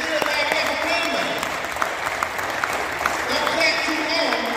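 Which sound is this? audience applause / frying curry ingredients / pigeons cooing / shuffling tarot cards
audience applause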